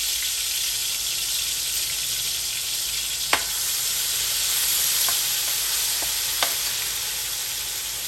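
Sofrito sizzling in hot oil in a pot for one-pot chicken and rice, a bright continuous hiss with a couple of faint clicks of a utensil against the pot, no voices.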